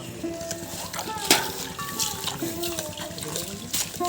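A mug being rinsed and rubbed clean by hand with water at an outdoor winter village picnic in a banana grove, with trickling and splashing water throughout and a sharper splash near the middle, under nearby talk.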